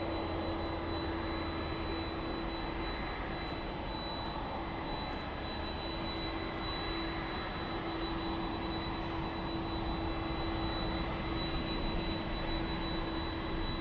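Delta Boeing 767 jet bound for Honolulu, its engines roaring steadily and loud throughout with a constant whine, a broad sustained rumble from a nearby departure.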